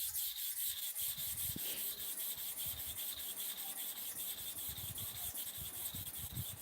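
Clipper blade scraped back and forth on a sharpening stone in steady to-and-fro strokes, a continuous gritty rasp at moderate closeness with no talk over it.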